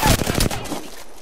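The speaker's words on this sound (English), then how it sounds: "The enemies are shooting at me." Gunfire in the battle royale shooter Apex Legends: a short cluster of loud shots at the start that quickly fades into a softer tail.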